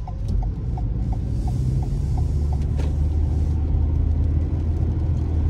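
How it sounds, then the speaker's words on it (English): Cars roll past on a wet road in Logan, a steady low rumble with tyre hiss swelling and fading, while a turn indicator ticks rhythmically close by inside the waiting vehicle. "Once these cars go by, I can then carry on."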